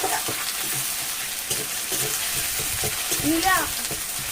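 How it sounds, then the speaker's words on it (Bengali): Ground chili and ginger paste frying in oil, with a constant loud sizzle, occasional spatula scrapes, and a short warbling squeak near the end. "লঙ্কা আর আদাটা বেটে রেখেছি, সেটা পুরোটাই দিয়ে দেবো। আদাটা দিয়ে দিয়েছি। এই তেলের সঙ্গে ভালোভাবে আমি কষে নেবো।"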